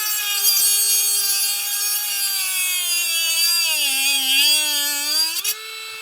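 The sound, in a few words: DEPSTECH cordless rotary tool cutting at 30,000 RPM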